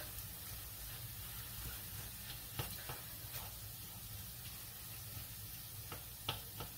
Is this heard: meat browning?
yes